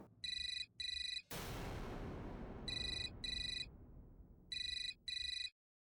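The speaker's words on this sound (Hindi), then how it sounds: "फोन बज रहा है, किसी को सुनाई क्यों नहीं देता?" A telephone rings in repeated paired electronic trills, three double bursts, with a loud whoosh of dramatic sound effect layered between the first and second pair, fairly quiet overall.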